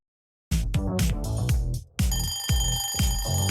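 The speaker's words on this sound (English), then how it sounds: "An alarm sound effect when the time is over" An alarm sound effect signalling that time has run out rings loudly and alone in rapid, regular bell-like pulses, repeating roughly every half second after a brief dip.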